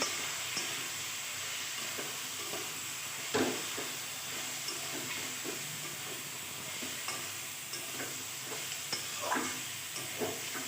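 Turmeric, cumin and ginger powders stir-fry in a pan for a ridge gourd and prawn dish, a soft steady sizzle with intermittent scraping strokes of a spatula.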